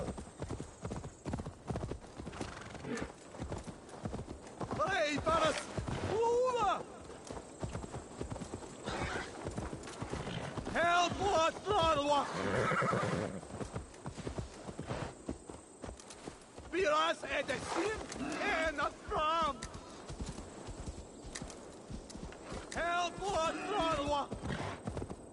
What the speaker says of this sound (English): Oh, I'm going to use my horse.